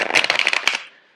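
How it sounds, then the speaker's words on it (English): Tarot cards shuffled close by in a quick riffling burst of crisp rapid flutters lasting under a second, then fading to quiet, with no talking. "I'm going to shuffle the cards out for you."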